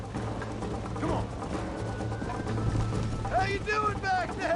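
Horse hooves gallop in Red Dead Redemption, a steady clip-clop running under a constant ambient bed while people talk over it throughout.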